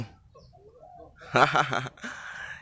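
A spotted dove being trained gives a short burst of cooing calls up close, a couple of soft rolling notes followed by a brief higher call, against a quiet background.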